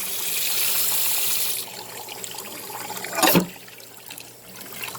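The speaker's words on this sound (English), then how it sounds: "rinse with just a little plastic scour pad" Water running into a nonstick pan being rinsed with a plastic scour pad, a close hiss of tap water that cuts off partway, followed by faint wiping and one brief louder splash.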